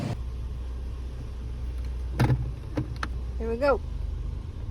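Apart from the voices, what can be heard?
car being driven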